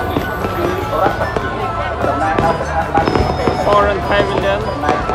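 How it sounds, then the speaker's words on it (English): Fireworks crackle and pop continuously over a busy outdoor crowd at Cambodia's Water Festival, while a nearby voice speaks briefly. "Beautiful fireworks."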